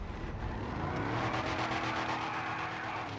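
A Ferrari engine in GTA 5 revved up to around 3000 rpm, a loud, sustained, rising roar with a rasping exhaust note and steady throbbing, filling the whole stretch without talk.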